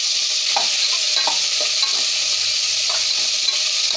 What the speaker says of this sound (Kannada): ಈ ಈರುಳ್ಳಿ ಸ್ವಲ್ಪ ಕೆಂಪಾಗೋವರೆಗೆ ಚೆನ್ನಾಗಿ ಬಾಡಿಸ್ಕೋಬೇಕು